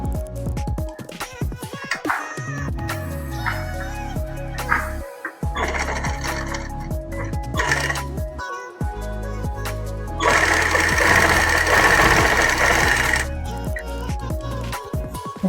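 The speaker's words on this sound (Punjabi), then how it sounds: "ਹੁਣ ਇਹਦੇ ਬਿਲਕੁਲ ਨਾਲ ਨਾਲ ਕਰਕੇ ਸਲਾਈ ਲਾਵਾਂਗੇ" Sewing machine stitching a neckline onto a ladies' kameez in bursts of whirring running, with pauses and handling noises between, close and fairly loud.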